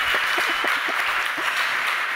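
Applause from a conference audience after a musical set, a steady dense wash of clapping from a sizable crowd that holds level throughout with no voices on top.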